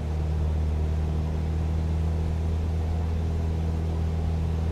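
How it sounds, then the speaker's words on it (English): Piston aircraft engine in Microsoft Flight Simulator after a mixture adjustment, a steady low droning hum with a constant tone, moderately quiet and unchanging throughout. "and you listen to the engine, it sounds so much better."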